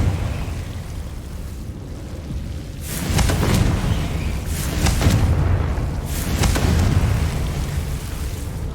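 Confringo fire spells explode in the Hogwarts Legacy video game: three loud, booming blasts about a second and a half apart, each with a rumbling tail, over a steady low background rumble.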